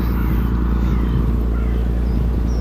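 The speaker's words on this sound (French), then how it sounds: "Une énorme péniche." A deep, steady engine rumble drones continuously, low and heavy, like a large barge motoring past nearby.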